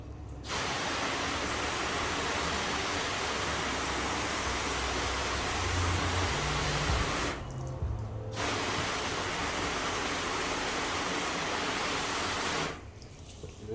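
A water hose sprays steadily to rinse a car's exterior after a graphene detailer is wiped on, a loud continuous hiss broken by two brief pauses, close to the microphone, with no talking.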